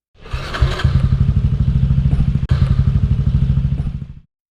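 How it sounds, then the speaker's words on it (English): A Harley-Davidson motorcycle engine roars loud and close, a rapid rhythmic throbbing that holds steady for several seconds with one brief break before cutting off abruptly. "The engine roared through the corridors"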